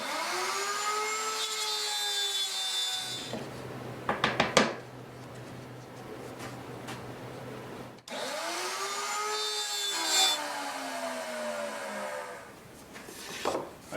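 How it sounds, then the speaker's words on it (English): A wood router fitted with a circle-cutting jig runs at high speed, with rising and falling whines as it spins up, cuts and winds down, in two bursts separated by quiet rattling, all close and loud. "adjust my router up, and then route the rest of the way through"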